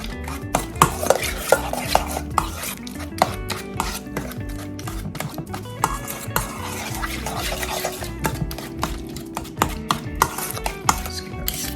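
A spoon stirs a thick pimento cheese spread mixture with hot sauce in a bowl, producing steady close scraping and regular sharp taps against the bowl, moderately loud with no speech.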